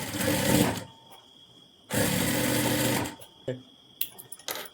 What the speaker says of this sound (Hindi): अब इसके ऊपर हमें डबल सिलाई लगानी है ताकि हमारे बाजू को मजबूती मिल सके